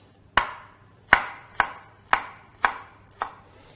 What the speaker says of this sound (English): And notice when I'm chopping